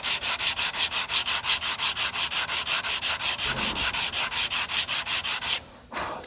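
A wooden guitar neck is sanded by hand in quick, even back-and-forth strokes, a close rhythmic scratchy rasp repeating steadily before stopping near the end.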